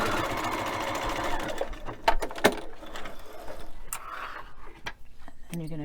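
A sewing machine back-stitches a buffalo-check pillow seam in short bursts, with the motor whirring, then stopping between a few clicks and mechanical knocks, close by.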